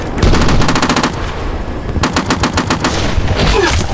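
Bursts of machine gun fire ring out loud and close in the tank simulator game Steel Beasts Pro PE, two long rapid volleys separated by a short pause, with no voices.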